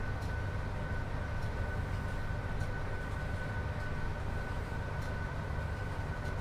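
Steady rumbling train noise from a Class 87 electric locomotive on the WCML between Preston and Carlisle in snowy weather, with a constant low drone and a thin high whine throughout, no voices.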